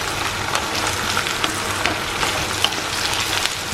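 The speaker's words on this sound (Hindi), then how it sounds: "लंबा लंबा आलू एंड प्याज विद ग्रीन चिली, ये थोड़ा हल्दी और सॉल्ट के साथ फ्राई करके" Long-cut potato and onion with green chili, turmeric and salt fry in a pan, giving a steady, close sizzle with occasional crackles and soft stirring.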